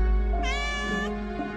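A pet cat gives a single clear, drawn-out meow, close and fairly loud, standing alone against a quiet room background.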